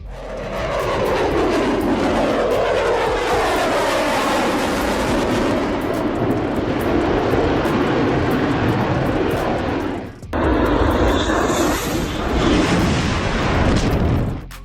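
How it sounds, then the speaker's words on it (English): A loud, sustained F-22 Raptor fighter jet afterburner roar fills the air, rumbling and broadband, holding steady before a brief dip and surging back with a high whine. "F-22 Raptor tearing through the sky like it owns the place."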